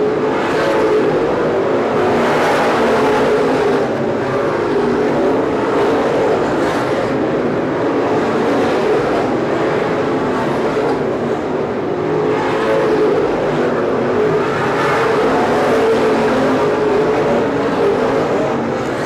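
Open-wheel race cars lap Seekonk Speedway as the field strings out, engines roaring continuously with rhythmic swells every few seconds as cars pass, loud and alone.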